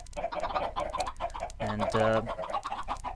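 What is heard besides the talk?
chickens clucking in a Minecraft chicken farm, video game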